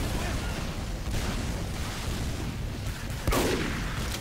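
Explosions and gunfire from a Team Fortress 2 match form continuous rumbling battle noise. A sharper blast hits near the end. Nobody speaks over it.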